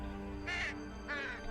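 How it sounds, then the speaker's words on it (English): A crow in the video game Mirador caws twice, two harsh, rasping calls about half a second apart, loud and close over a soft background hum. "what noises does a crow make? What does he bark? No. He caws."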